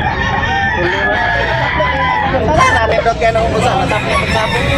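Roosters crow among clucking fowl at a busy chicken market in Tabunok, Talisay, Cebu, the calls loud and close over constant crowd babble and people talking.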